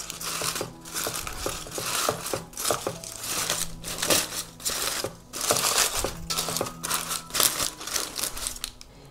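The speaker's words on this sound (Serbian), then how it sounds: "I sklonimo papir za pečenje." Baking paper being pulled away from oven-roasted pork, steady close crinkling, rustling and tearing noises in uneven bursts throughout, with no talk.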